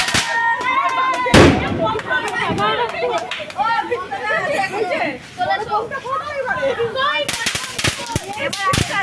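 Children set off fireworks at a New Year party, with sharp bangs and crackles bursting repeatedly through a busy mix of chattering voices and loud party noise.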